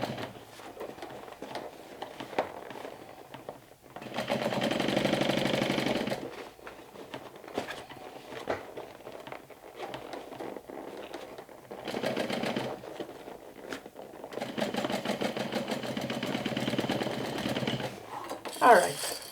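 A sewing machine stitches backpack panels in several separate runs of steady mechanical whirring, with quieter handling sounds in the pauses between.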